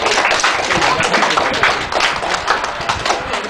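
Dense, loud applause from guests at a teachers' appreciation farewell banquet fills the room as students are welcomed in, steady rapid clapping with no gaps.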